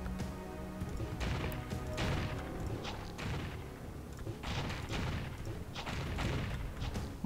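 Gunfire and thudding blasts from the top-down alien shooting game Alien Shooter, a dense run of repeated shots and booms at moderate level with no speech.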